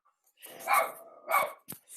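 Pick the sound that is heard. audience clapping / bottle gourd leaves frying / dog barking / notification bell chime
dog barking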